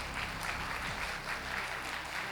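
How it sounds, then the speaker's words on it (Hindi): Strong audience applause for a speaker at a direct-selling business event, dense continuous clapping at a steady level throughout. "एक बार जोरदार तालियां होनी चाहिए समीर सर के लिए।"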